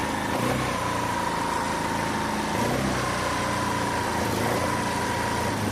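A small scooter engine idles steadily up close after a service-centre repair of a white smoke fault, a continuous buzzing hum with a slight wavering pitch and no voices.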